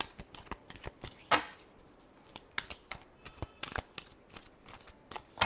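Tarot cards shuffled by hand in close, quick riffles and soft slaps, with short pauses between bursts and no talking.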